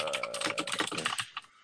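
Rapid computer keyboard typing clatters close to the microphone in quick, irregular clicks during an online game session, with a brief tonal game sound at the start.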